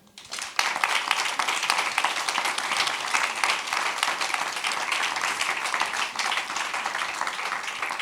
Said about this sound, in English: A big round of applause from you to you for the word cloud and also for the panel.